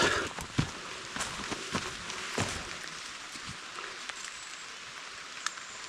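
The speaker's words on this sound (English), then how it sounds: "Now it's raining." Steady rain patters on leaves and the forest floor along a mountain hiking trail, a dense close hiss with scattered sharper drops, heard alone.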